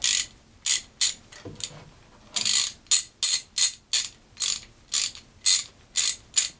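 A Craftsman ratchet clicks through about a dozen sharp bursts. Each burst is a quick run of close metallic clicks, and the bursts come in a fairly regular rhythm with short pauses between them.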